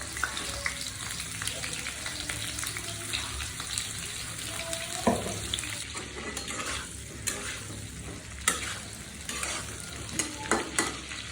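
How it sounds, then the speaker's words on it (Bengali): Cauliflower florets frying in mustard oil in a pan, a steady close sizzle with repeated stirring scrapes and occasional utensil clinks against the pot. "ফুলকপিগুলো এখন একটু ভেজে নিব।"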